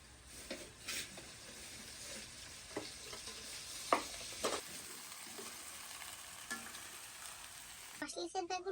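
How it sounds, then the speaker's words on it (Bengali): Chicken sizzles in hot oil with onion, chili and spices while a spoon stirs it, a quiet steady frying hiss broken by short scraping stirs and clinks, and no one speaks. "মশলার সাথে এখন মাংস ভেজে নেব।"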